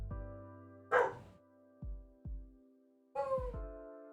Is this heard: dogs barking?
yes